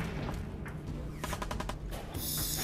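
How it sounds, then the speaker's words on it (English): Gunfire in the video game Fallout 4, a quick burst of several sharp shots in rapid succession followed by a louder noisy blast, heard somewhat distant and faint. "Who's shooting?"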